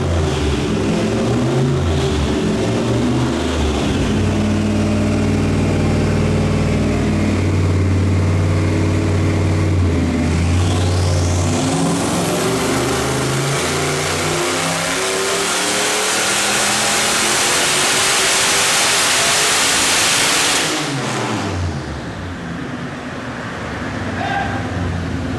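A turbocharged LS3 V8 with a Garrett turbo roars loudly through a full-throttle dyno pull on pump gas. The engine note climbs steeply alongside a rising turbo whine, then the revs drop off near the end.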